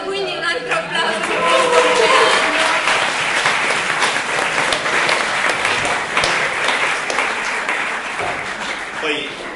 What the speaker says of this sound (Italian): quindi un altro applauso